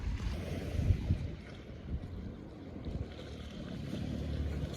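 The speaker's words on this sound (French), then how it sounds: "le bruit des vagues" Sea waves wash along the shore at Tallinn, Estonia, heard as a steady low rumble mixed with gusty wind noise on the microphone, with no voices.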